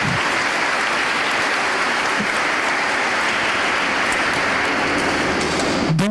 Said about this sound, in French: On peut les applaudir quand même